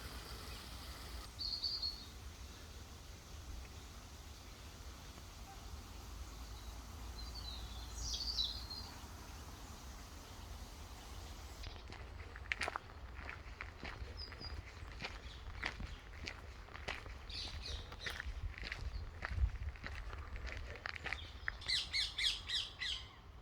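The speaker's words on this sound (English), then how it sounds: "Hearing the birds" Faint scattered bird calls and squawks sound outdoors in a natural setting with trees and children playing, set against a low steady background hum with occasional soft rustling steps.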